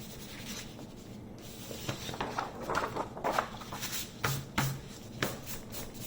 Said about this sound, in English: I'm going to erase all my pencil marks.